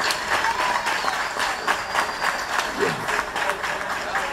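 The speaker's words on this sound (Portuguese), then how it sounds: "a quem eu peço uma salva de palmas" Steady audience applause at a live music talk show, dense and continuous clapping at moderate loudness filling the whole stretch, with no speech over it.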